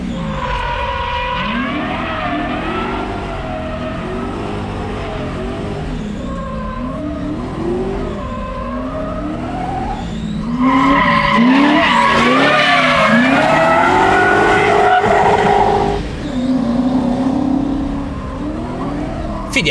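A car accelerating hard during a KIA XCeed vs. BMW E30 comparison, engine revving with prolonged tire squeal and skidding that grows louder midway, while people talk over it.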